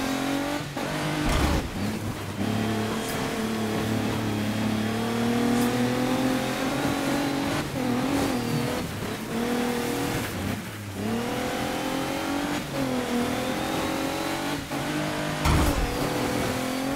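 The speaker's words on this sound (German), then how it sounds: "Schön driften hier auf dem Schnee" Car engine revving hard and shifting while drifting on snow in the rally game DiRT 3, a loud continuous roar with rising and falling pitch and brief sharp bursts, no talking.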